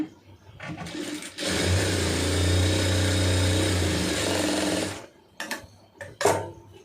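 A sewing machine stitches a seam joining a large sleeve in one loud, continuous whirring run of about three and a half seconds, with brief handling noises before and after.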